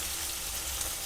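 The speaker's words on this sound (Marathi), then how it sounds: "मिरचीचा ठेचा जो आपण ठेचून घेतलेला आहे तो घालायचा आहे." Crushed green chilli thecha fries in a hot cumin and curry-leaf tempering, producing a continuous close hiss of sizzling oil with soft crackle and no voices.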